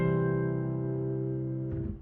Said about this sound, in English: So here you can hear the 5 resolving to the 1 chord,